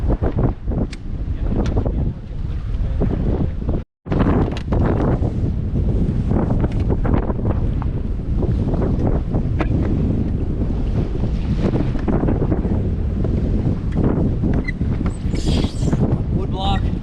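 Strong, steady wind roars across a microphone on a fishing dock, with water sloshing beneath the constant rumble and faint talk buried in the gusts.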